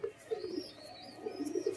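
High-flying Madras pigeons coo in soft repeated phrases, a quiet close murmur with faint chirps behind and no one speaking.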